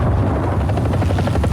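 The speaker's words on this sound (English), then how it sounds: "how did he miss a helicopter?" A helicopter in a Ground RB battle in an aircraft combat game drones loud and close with a steady rotor thump and engine whine that holds continuously.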